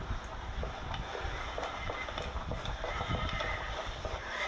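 A horse whinnies amid steady hoof clatter and shuffling, fairly close and continuous throughout.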